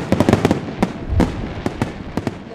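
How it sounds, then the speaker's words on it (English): New Year's Eve fireworks over a Burlington waterfront celebration crack and pop in a rapid series of sharp bursts, some spaced apart, moderately distant with a low rumble between. "An array of fireworks lit up the sky to celebrate a new year and new beginnings with loved ones."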